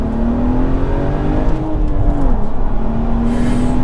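A tuned BMW 135i with a limited-slip differential pulls flat out in second gear, its loud, rising engine drone building steadily up close.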